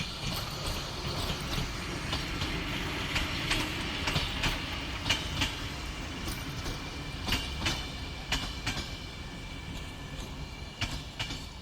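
A train runs steadily along the rails with a continuous rumble and a rhythmic clickety-clack of wheels over track joints, heard close and alone as a sound effect for an audio drama.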